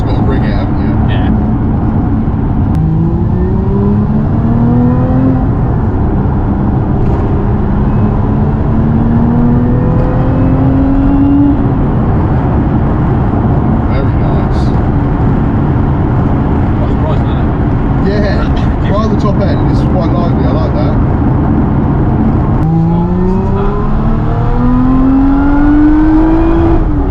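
Lotus Emira engine revving hard and accelerating, rising sweeps climbing to an aggressive fuel cut-off, repeated several times, loud and close, with people talking over it inside the car.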